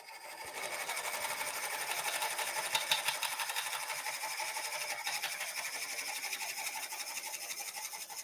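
Wood lathe turning at a steady speed while a bowl blank is cored, a constant high motor whine with a fine rattling buzz and no change throughout.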